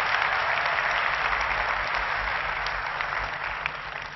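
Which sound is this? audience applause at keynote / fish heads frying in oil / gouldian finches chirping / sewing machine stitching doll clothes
audience applause at keynote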